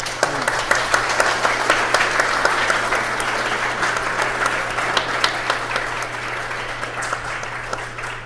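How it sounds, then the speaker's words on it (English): An audience applauds after a public astronomy lecture at Columbia, dense and sustained clapping from a large crowd that fills the hall evenly and fades slightly toward the end. "let's have one more round of applause for Jen"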